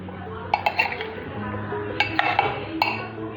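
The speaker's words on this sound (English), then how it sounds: "Now mix this all up thoroughly." Aloo chaat gets mixed with chutney in a bowl, a few sharp clinks and taps of a spoon against the bowl in two short bursts over soft background noise.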